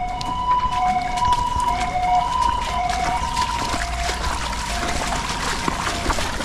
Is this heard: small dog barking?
no